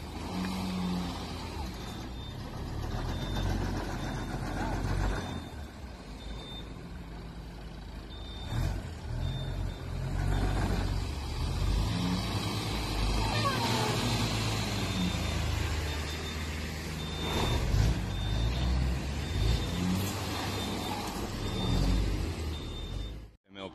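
A Kia Sorento's engine labours as it hauls a stuck trailer free, a loud, sustained motor drone with surges and rumbling, while people talk over it throughout.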